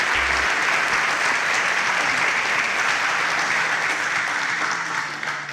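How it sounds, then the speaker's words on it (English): Steady applause from a quiz show audience greeting a contestant, a dense, even clapping that fills the whole stretch at close range and only thins slightly at the very end. "Please a round of applause for"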